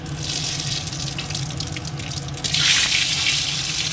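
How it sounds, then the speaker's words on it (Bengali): Dried red chillies dropped into hot oil for a Bengali vegetarian tempering, giving a steady close frying hiss that swells louder partway through. "এবার তেলটা গরম হয়ে গেছে দিয়ে দিচ্ছি শুকনো লঙ্কা"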